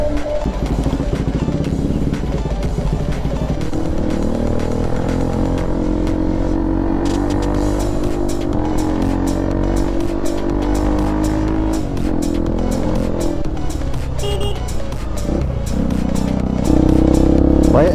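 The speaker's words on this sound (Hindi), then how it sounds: "भाई एग्जॉस्ट इतना लाउड है ना कि आराम से देख के चलना पड़ रहा है" A Bajaj Pulsar NS200 motorcycle fitted with a loud Akrapovic aftermarket exhaust runs continuously nearby, a loud, steady engine drone with a slightly rising pitch, heard alone without talk.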